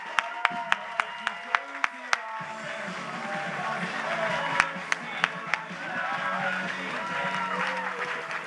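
A crowd applauds the fundraising total at the Circuit Bleu Charles-Bruneau closing ceremony, with loose clapping and a run of sharp, distinct claps near the start, plus voices and cheering mixed throughout.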